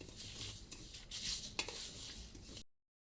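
Spices with bay leaves are dry-roasted in a pan for a jujube pickle, soft scraping and rustling of a spatula against the pan with a few sharper clinks, close but quiet, ending abruptly.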